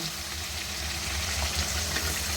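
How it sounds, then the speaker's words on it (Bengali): Chicken cooking with spices in a pan, with a little water just added, produces a continuous, moderately loud sizzle and bubbling hiss with no voices. "এখন আমি অল্প একটু জল অ্যাড করে দেব"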